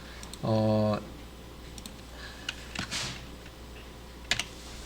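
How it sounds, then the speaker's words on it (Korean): Quick, light clicks from a computer keyboard as Java code is typed, coming in short scattered bursts, quiet and close, with a brief electronic beep near the start. "제가 저 타이핑하면서 엉터리로 씁니다"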